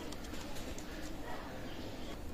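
Pakistani Teddy pigeons of the Mianaji line, just released and flapping about, give a steady near mix of wingbeats and soft cooing that runs without pause.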